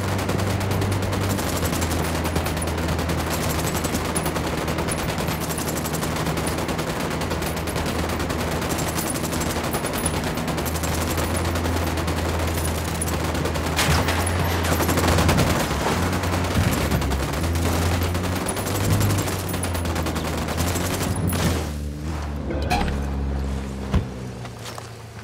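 Gunfire in a first-person Ghost Recon Wildlands firefight, with loud sustained bursts over a constant low engine-like rumble and dense overlapping shots continuing throughout.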